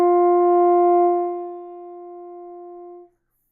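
A saxophone holds a single low D with all fingers down, a clean, steady tone played alone that softens after a second and then stops.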